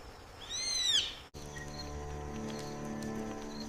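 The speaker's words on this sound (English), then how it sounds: "An owl watches the forest from a quiet branch." An owl in the Sundarbans forest at night gives a single clear, wavering whistled call that rises and falls, followed by a low steady humming background.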